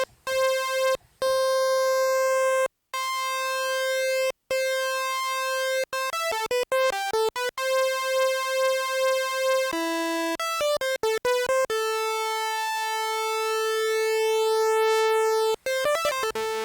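A Kodamo Mask1 synthesizer's sustained tones with steady harmonics, broken by rapid glitchy steps and pitch jumps, with a wavering, uneven phasing shimmer running through them.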